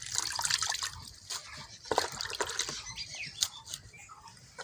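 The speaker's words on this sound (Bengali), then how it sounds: "আমি এখন শাকটা ধোলাই করে নিচ্ছি" Water splashes and trickles softly as leafy greens are washed by hand, with light irregular drips and sloshes close by in a quiet village setting.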